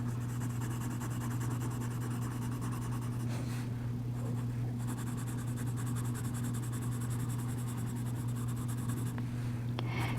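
Pencil drawing a Frankenstein's monster picture on paper, a continuous close scratching and scribbling with short pauses as the pencil is turned, over a steady low background hum, with no talking.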